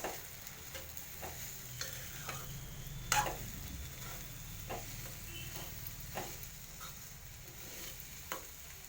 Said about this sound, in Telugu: ఇక ఫ్రై అవుతుంది చూడండి ఫ్రెండ్స్